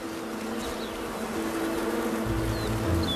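A steady hum of worker honeybees buzzing nearby, with faint individual insects drifting past over a constant droning background.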